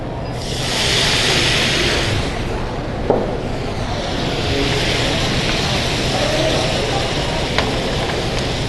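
A loud, continuous sizzle and hiss rises as water hits a hot pan of blooming cumin while cooking curry, surging then settling into a steady roar, with a couple of faint clinks.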